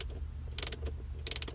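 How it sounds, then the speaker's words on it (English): A half-inch socket on a ratchet works a small half-inch exhaust bolt on a jet ski, giving two short bursts of quick metallic clicks close by, separated by a brief pause. "I want to grab my half inch socket and ratchet and remove this half inch bolt"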